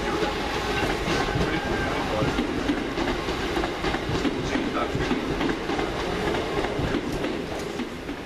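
A train rolling through Crewe railway station, a loud steady rumble with rhythmic clickety-clack of wheels over rail joints, close and continuous throughout.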